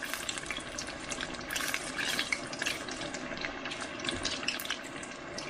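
Battered fish lowered into hot oil in a frying pan, giving a loud, steady, hissing sizzle that runs unbroken throughout.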